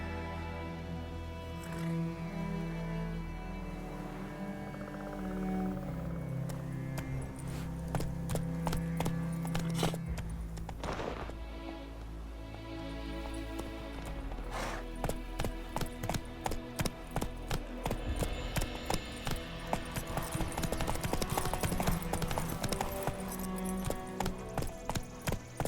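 Horse hooves clip-clop through a video game scene under steady orchestral music, the hoofbeats growing sharper and more rhythmic in the later half as the animal moves along at a trot.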